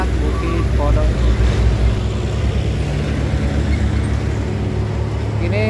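A heavily loaded large truck engine labors up the steep Bukit Porok climb, a loud steady low roar with harmonic drone that persists throughout, with traffic noise around it.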